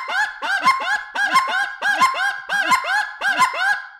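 A hand-blown goose call mimics two lesser geese answering each other, giving rapid paired honks and clucks in a steady back-and-forth rhythm, loud and close with no talking.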